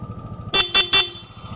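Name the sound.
motorcycle air horn honking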